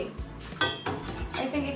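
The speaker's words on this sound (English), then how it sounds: "make sure you are stirring it so it will not be burned at the bottom of the pot" A pot of warm milk is stirred on the stove, producing soft scraping and light metallic clinks of a utensil against the pan in a quick irregular rhythm, close up and faint.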